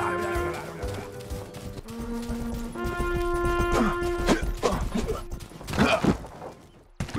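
Horse hooves in a medieval open-world video game, a run of clip-clop steps that grows louder and more jumbled toward the end, mixed with game music tones and other effects, with no clear talk.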